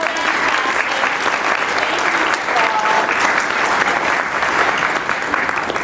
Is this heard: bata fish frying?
no